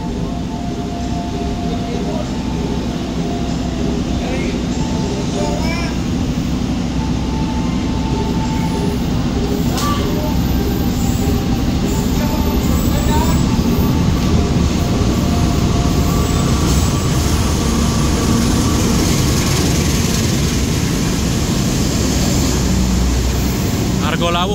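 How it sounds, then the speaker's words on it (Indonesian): Trains at Gambir station in Jakarta, including the Argo Lawu hauled by a CC 206 locomotive, give a steady, loud rumble with a constant engine drone and faint squeals, while a person talks over it. "baru turun dari kereta api Taksaka, dan di belakang Taksaka langsung ada kereta api Argo Lawu"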